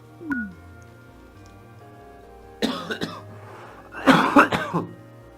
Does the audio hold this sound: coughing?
yes